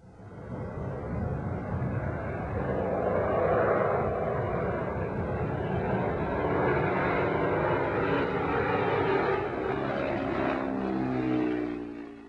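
Water bomber aircraft pass low over a burning tire dump, the propeller engines roaring steadily and loudly throughout with a slow swell and fade as they fly over.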